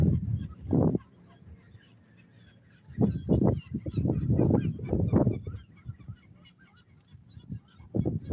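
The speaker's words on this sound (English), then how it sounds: "The gulls and the river." Loud, harsh seagull calls break out in clustered bursts, squawking over a low outdoor rumble by the River Thames in the Docklands, with quieter gaps between the bouts.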